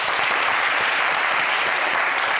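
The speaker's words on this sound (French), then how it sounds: "Merci d'applaudir Sita." Studio audience at a French TV game show breaks into loud, dense applause, a continuous close wash of clapping hands with no pause and little voice over it.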